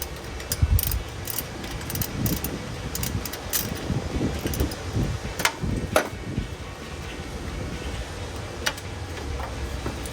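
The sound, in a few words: ratchet socket wrench turning 8 mm bolt on Toyota Tundra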